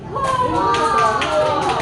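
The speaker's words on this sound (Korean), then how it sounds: "박수!" Children's audience at a magic show clapping after a trick, a short burst of hand claps mixed with lively voices.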